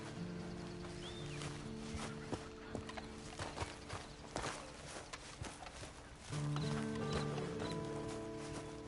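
Horse hooves clip-clop at a walking pace in Red Dead Redemption 2, an irregular series of close, sharp knocks over a soft ambient bed with tonal game sounds, occasional faint snorts.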